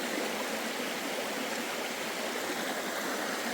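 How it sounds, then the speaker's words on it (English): A creek on the Appalachian Trail flows nearby in a steady, full rushing wash, loud and constant with no voices over it. "Here on the shore of a creek"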